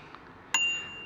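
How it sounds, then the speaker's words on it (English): A bicycle bell mounted under a Garmin mount on a Cipollini Bond road bike gives a single bright ding that rings on briefly over quiet background. "So I have a bell underneath my Garmin mount."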